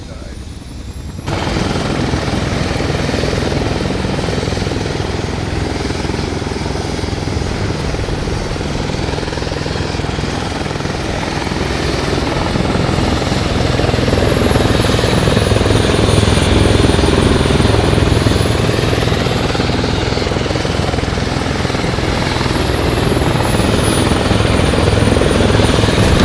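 A helicopter flies in a military video game, its steady loud rotor and engine roar running continuously close by with people talking over it.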